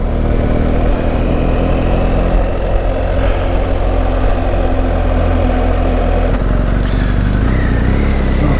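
A vehicle engine runs loud and close for the whole stretch, a steady rumbling drone on an Outback road toward Silverton, with no voices.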